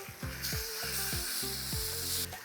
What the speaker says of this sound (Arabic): بعدين بدنا نقلب الباد تاي فوق البيض